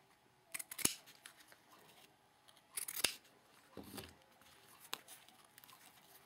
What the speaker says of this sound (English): let me go ahead and trim these up at the top as well